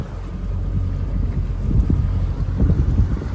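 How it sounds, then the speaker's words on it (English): Strong wind buffets the microphone on the water during a fishing trip near the coast at Yarra Bay, a steady loud roar with gusting low rumble and a faint wash of waves beneath. "It's getting windy over here."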